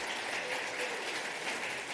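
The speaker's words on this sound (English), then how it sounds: "Can we just give them a round of applause?" An audience claps for auction volunteers, a dense, even burst of applause filling the whole moment.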